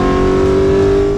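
A Porsche 908 Langheck long-tail race car engine drones loud and close in a steady high-revving note, its sustained tone unbroken and with no voices heard.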